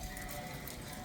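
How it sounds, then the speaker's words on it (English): Sheep bleat close by as a flock passes among pines, a soft steady bleating texture with faint hoof patter, quiet and continuous. "it's the sheep again"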